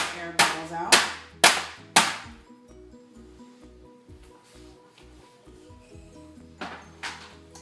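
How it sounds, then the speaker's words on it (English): A cold process soap mold is banged down several times to release air bubbles: four sharp knocks in quick succession, a quieter pause with faint ringing, then two more knocks. "Let me just bang it out a little bit and get the air bubbles out."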